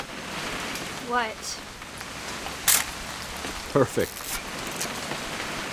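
Steady rain from the video game What Remains of Edith Finch falls as a soft, constant hiss, with brief spoken voices over it.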